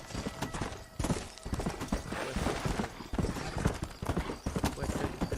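Horse hooves clip-clop in the Red Dead Redemption video game, a brisk rhythmic run of close hoof strikes on dirt with occasional louder thumps, alongside faint game ambience.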